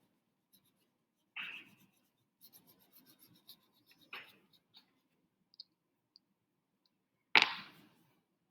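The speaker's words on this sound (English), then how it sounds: "So right now I'm using oil pastels" Oil pastels scraped across paper in a few short, sharp rasping strokes with light scratchy rubbing between them, close and quiet.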